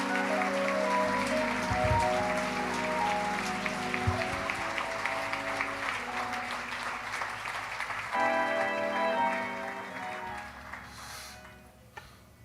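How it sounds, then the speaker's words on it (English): Applause from mourners at a funeral service for Daunte Wright, a broad steady clatter of clapping filling the room for about twelve seconds, with tonal sound running underneath and fading near the end. "You all give a big round of applause for this beautiful American family."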